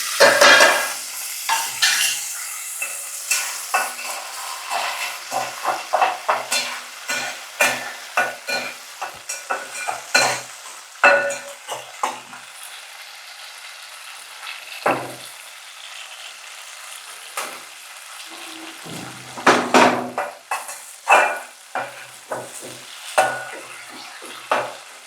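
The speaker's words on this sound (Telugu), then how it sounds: "సో నూనె వేడెక్కిందండి. నూనె చూసారా బబుల్స్ వస్తుందంటే నూనె వేడెక్కినట్టే." Food frying in hot, bubbling oil while being stirred in a pan, with a steady loud sizzle broken by frequent scraping and clinks of the utensil against the pot, and no talking.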